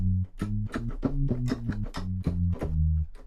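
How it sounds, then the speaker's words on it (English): Sampled bass guitar from Logic's built-in instrument plays a steady run of plucked low notes in a bouncing rhythm, loud and close with no voices over it. "I'm gonna be that guy and just use the Logic bass guitar."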